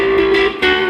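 Electric guitar played low on the neck, recorded in a home studio with a full, strong, sustained tone that rings steadily, briefly dips, then swells again.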